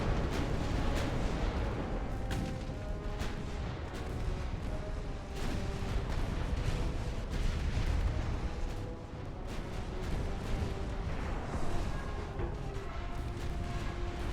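Naval guns in Ultimate Admiral: Dreadnoughts fire steadily at incoming destroyers, heavy booms rolling one after another over a dense, continuous battle roar, with no talking.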